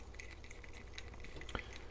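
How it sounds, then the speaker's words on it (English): A small metal backpacking pan's homemade seasoning mix, containing iron powder, is stirred with soft scraping and light clinks, quiet and close, with one sharper tap near the end. "And so I'm going to give it a stir because it's got the"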